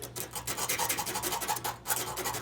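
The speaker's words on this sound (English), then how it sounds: "you're going to take some sandpaper and you're going to clean up your connections" Sandpaper scrubbing back and forth over oxidized kiln element connections, a steady run of close, rasping strokes with no voices.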